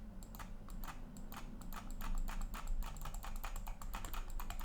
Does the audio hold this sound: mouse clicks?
yes